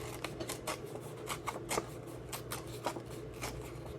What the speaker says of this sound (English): I was going to tear this where I have that little tag bit.